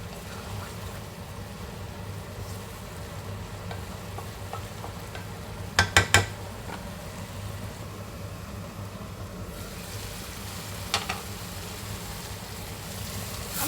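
Tomato chutney sautéing in a pan, a low continuous sizzle under a background hum, with a few sharp clinks near the middle and another later.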